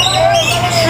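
Birds in an aviary at Busch Gardens give brief whistling chirps and squawks amid crowd babble and nearby voices.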